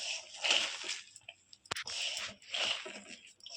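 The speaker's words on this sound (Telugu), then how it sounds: "ఇప్పుడు ఇవన్నీ వేసాను కదా ఒకసారి బాగా కలుపుకోండి అంతా కలిసేలాగా" A Veg Manchurian vegetable mixture with cumin powder being mixed by hand at close range, giving soft wet squishing and squelching in uneven bursts, with a brief sharp tap partway through.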